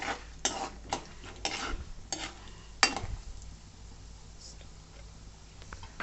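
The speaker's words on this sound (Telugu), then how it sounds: "మా మమ్మీ పల్లీలు, తాలింపు గింజలు, కొంచెం జీలకర్ర, 2 ఎండుమిరపకాయలు వేసేసుకొని కలుపుకుంటుంది వేగేదాకా" A spoon stirs peanuts, cumin seeds and two dried red chillies frying in oil in a pan for idli upma, giving a steady soft sizzle broken by several sharp scraping and clinking strokes against the metal.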